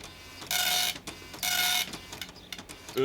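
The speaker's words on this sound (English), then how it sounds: "I think the printer doesn't know how to use your new paper, Ted." A printer running and printing in a cartoon scene, two loud sustained bursts of whirring mechanical feed noise separated by a brief pause, followed by quieter clicking and rattling.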